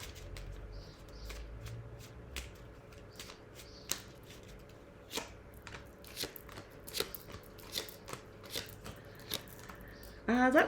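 Tarot cards being shuffled by hand, a run of soft crisp riffles and taps spread through the clip, fairly quiet, with a louder burst of handling at the end.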